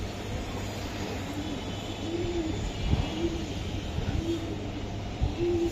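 A silver racing pigeon coos repeatedly in soft, rhythmic phrases about a second apart, close by, over a constant low background hum.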